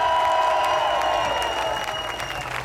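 Applause from a live concert audience in Tournefeuille, a dense wash of clapping that starts loud and gradually thins and fades over a few seconds.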